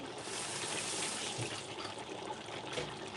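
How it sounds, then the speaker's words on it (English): Hands washed under a running kitchen tap, a steady close rushing hiss of water flowing without pause for a few seconds. "Wash my hands."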